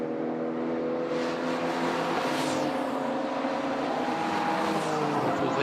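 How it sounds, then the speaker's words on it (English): Race cars, including a Volkswagen and a BMW, lap a circuit at a Grand Prix, their engines a continuous loud drone with a car sweeping past and fading, with no talk. "number 22 Volkswagen has just lapped number 85 Youyam BMW"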